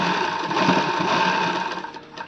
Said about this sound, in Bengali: একটা করে পিন খুলছি সেলাই করছি